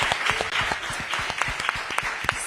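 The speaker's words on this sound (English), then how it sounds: "I think we need a little round of applause there" An audience at a post-race press conference for the 2024 IRONMAN World Championship in Nice claps steadily in a sustained round of applause, dense and close with no pauses.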